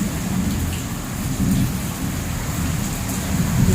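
Heavy monsoon rain pours steadily with low rumbling thunder rolling underneath, dense and continuous throughout, no voices.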